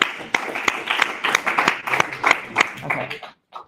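A small online class audience applauds a student team, Team Insider, with scattered, uneven claps. A few sharp individual hand claps stand out before the sound stops abruptly near the end.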